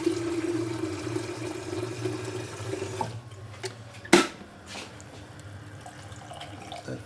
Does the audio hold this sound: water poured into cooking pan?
yes